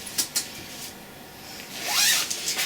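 A zip on a cloth project bag being opened, a short rasping zipper pull preceded by a couple of light clicks, close and clear with no talking.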